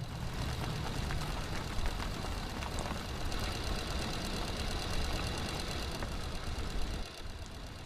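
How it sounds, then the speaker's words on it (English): An engine idles steadily outdoors at moderate distance, a continuous mechanical drone that drops off slightly near the end. "there's an engine outside right now"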